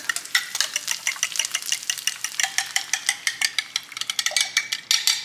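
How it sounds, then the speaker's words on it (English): Eggs whisked with milk stirred in a frying pan on low heat for breakfast freezer meals, the utensil scraping in quick repeated strokes over a soft sizzle, close and steady with no talk. "About now is the time when I'm gonna go ahead and add in my eggs"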